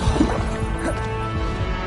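Confringo fire-blast spell cast in the Hogwarts Legacy video game: a dense, loud burst of crashing, smashing impacts over rumbling game effects and music, steady throughout with no voices.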